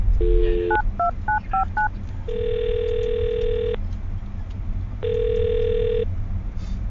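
A run of short keypad tones as a telephone number is dialed, a quick burst of beeps followed by two longer steady tones with a pause between, fairly clear over a faint background hum.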